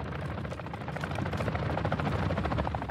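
A helicopter in the video game Call of Duty DMZ, its rotor chopping in a fast, steady rhythm at moderate distance, continuous across a few seconds with no speech over it.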